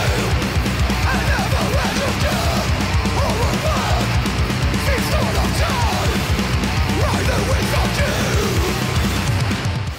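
Death metal from a Swedish band's album plays loud and dense, with dense distorted guitars, pounding drums and harsh growled vocals throughout.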